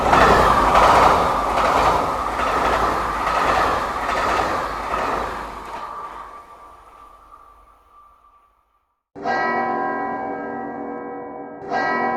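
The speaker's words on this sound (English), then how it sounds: "Le TGV numéro 424, départ initialement prévu à 20h12, entrera en gare, voie 4." A French TGV high-speed train pulling into a station on track 4, loud clattering rail roar that fades to near silence, followed by a chiming station announcement tone.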